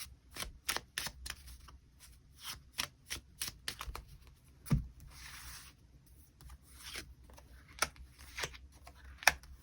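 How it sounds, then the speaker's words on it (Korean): Tarot cards are drawn and handled up close, giving soft, quick snaps and papery slides in a scattered rhythm over a quiet background. "추가 카드 뽑아보도록 하겠습니다"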